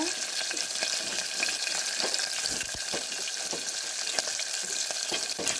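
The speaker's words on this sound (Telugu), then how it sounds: "ఎల్లిపాయ ముక్కలు వేసి కొద్దిగా వేగాలండి" Chopped garlic and onion pieces with green chilli frying in a pan for tomato rasam, a dense continuous sizzle with faint scraping stirs, close and loud, no voices.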